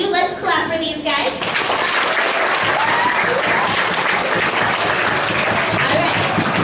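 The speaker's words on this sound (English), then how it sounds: "Let's clap for these guys." Loud, sustained applause from a room of children for the young participants of a writing contest, steady dense clapping with excited kids' voices mixed in after a brief opening of talk.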